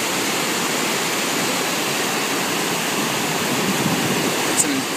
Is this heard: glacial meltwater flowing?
yes